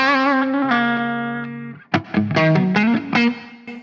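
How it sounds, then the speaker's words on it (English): An electric guitar runs through a Friedman Overdrive pedal into a Friedman Runt 50 amp, giving a crunchy, mid-heavy overdriven tone with sustained chords, a brief pause, then punchy picked notes and bends, played loud and alone. "this guy, the Friedman Overdrive, it's given that mid-range back and a little bit more gain,"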